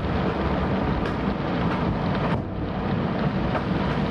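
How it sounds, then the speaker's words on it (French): Strong squall wind roars across a sailboat at sea, a dense steady rush of gusts buffeting the microphone with sea and hull noise underneath, loud and continuous without voices. "On vient de se prendre un bon grain."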